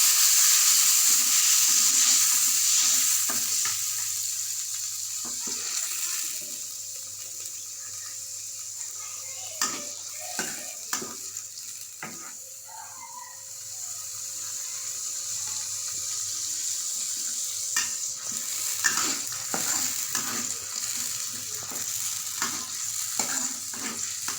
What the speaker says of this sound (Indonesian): Setelah minyak mendidih, sambalnya kita tumis ya teman-teman.